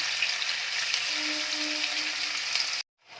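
Chicken pieces for chicken choila sizzle steadily in a hot pan on a gas stove, a continuous close, even frying hiss that cuts off abruptly near the end.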